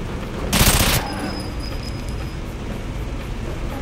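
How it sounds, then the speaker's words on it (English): Gunfire in the GoldenEye 007 shooter game on Wii: a single loud, rapid automatic burst lasting about half a second, followed by quieter game background noise with a thin electronic whine. "God damn, I love this gun!"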